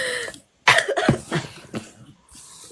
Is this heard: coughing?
yes